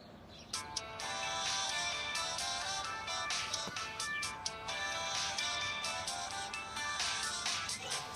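A phone ringtone plays a bright, repeating electronic melody, continuous and fairly clear, with no voices over it.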